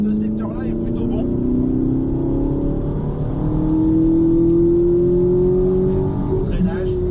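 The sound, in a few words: car driving on a race track, braking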